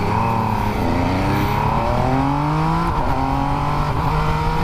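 A Triumph Street Triple RS motorcycle engine on a road test, revving loud and close with rising and falling harmonic tones as it pulls through gear changes, steady and continuous without talk.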